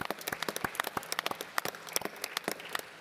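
A forum audience at a tourism resilience event gives a quiet round of applause, with scattered, uneven claps rattling along for a few seconds.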